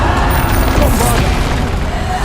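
A Bombarda spell blasts in Hogwarts Legacy, a loud, continuous low booming rumble under heavy game combat noise with no clear break.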